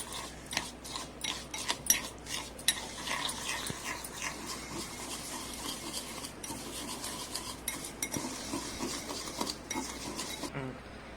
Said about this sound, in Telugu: పావు కప్పు నెయ్యి పోసిన, 1/2 కప్పు చక్కెర వేసిన. ఈ రెండు బాగా మిక్స్ అయ్యేటట్టు కలుపుకోవాలి మంచిగా.